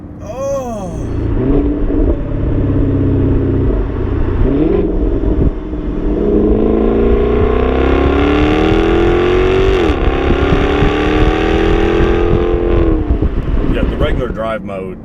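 Jaguar XK-RS engine revving hard with the exhaust opened in dynamic mode, a loud, continuous roar rising and falling in pitch through the gears, with voices talking over it inside the cabin.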